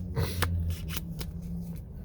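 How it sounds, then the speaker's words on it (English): Playing cards being shuffled up close: quick riffling flutters and soft slaps in short bursts, with no talking. "We're going to give these a little shuffle, a little mix."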